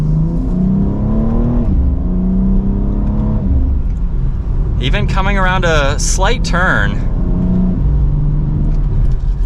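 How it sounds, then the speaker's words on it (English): A 2023 BMW X3 M Competition's engine and exhaust rumble steadily and then climb through a rising rev run partway through while accelerating through the gears, with someone talking over it throughout. "it has a good exhaust note to it"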